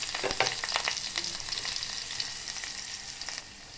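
Onions and a dried red chili fry in a spoonful of hot oil in a pan. They give a close bright sizzle with a few crackling pops early on, then settle to a steady hiss that softens near the end.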